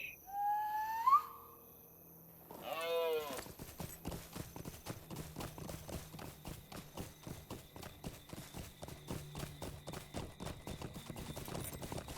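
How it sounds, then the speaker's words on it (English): Horse hooves clip-clop in a steady trotting rhythm in the Lord of the Rings Online video game, moderately close, after a brief owl hoot and a short whinny at the start. "so let's mount up on my horse."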